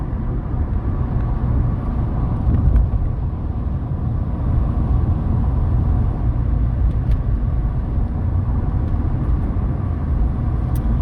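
An Acura RSX accelerates hard, its engine a loud, steady low rumble heard from inside the car, continuing without a break and without speech.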